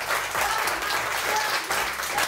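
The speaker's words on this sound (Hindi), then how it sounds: "उसके लिए आपकी तालियां पहले तो बताएंगे। जितने यहाँ बैठे हैं तालियां" A studio audience at a morning TV show bursts into loud, continuous applause, with faint low music tones beneath.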